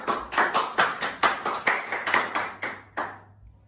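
A small group claps in a short, irregular burst for a student's correct answer at a biology quiz, about a dozen distinct hand claps spaced unevenly and tapering off, close and fairly dry.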